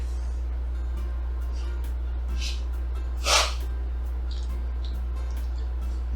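A single short sneeze bursts out once, mid-distance, over a steady low electrical hum in an otherwise quiet room.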